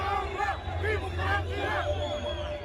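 A protest crowd of the Hirak movement in Algeria, a large street gathering with a steady hubbub of many voices and rising chanted shouts over a low rumble.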